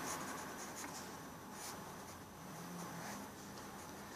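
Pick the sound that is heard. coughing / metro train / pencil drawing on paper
pencil drawing on paper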